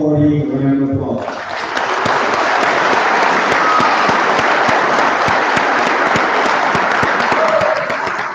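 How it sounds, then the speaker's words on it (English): After a moment of speech, an audience at a career campus awards night breaks into sustained, loud applause for the awardees, dense and even before tapering slightly at the end. "Please join me in giving all awardees a round of applause."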